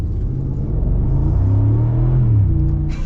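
A 2024 Mercedes G550 V8 in sport mode pulls hard from inside the cabin, its deep engine rumble rising steadily in pitch as it accelerates, loud and continuous with no talk.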